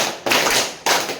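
A school class claps together in a counting game, two loud, close bursts of hand claps in quick succession, each a short, dense flurry with no talk.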